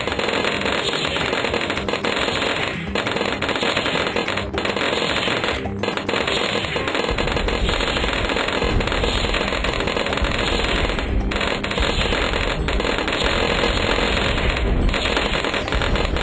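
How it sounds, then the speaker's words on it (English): Dense, continuous crackling pops from bomb shooter towers exploding in a Bloons Tower Defense game, a steady rapid stream of small blasts with no pauses or voices. "Let's get a bomb shooter as well."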